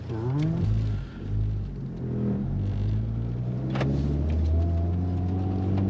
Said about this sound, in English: I can hear the square cut gears of reverse at low speed.